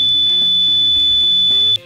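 An electrical tester's loud, continuous high-pitched buzzer tone holds steadily for nearly two seconds, then cuts off abruptly.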